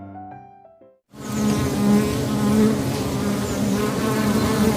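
After a short musical sting, a swarm of honey bees buzzes loud and close, a thick continuous drone with many wings overlapping and no break.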